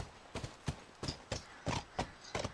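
A horse in The Last of Us gallops in a quick, uneven rhythm of about eight close hoof strikes, clear and fairly loud with no talking.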